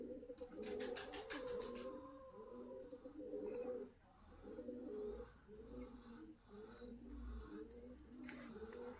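Fighting pigeons in Tbilisi, Georgia coo softly in a steady repeating rhythm, faint and somewhat distant, with a brief chirp near the start.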